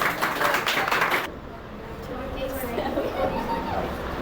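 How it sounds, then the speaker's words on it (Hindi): A classroom audience claps for a student at a 10th-grade results celebration, a dense burst of applause that quickly dies down into murmuring voices and speech. "लक्षित बंसल के लिए जोरदार तालियां होनी चाहिए"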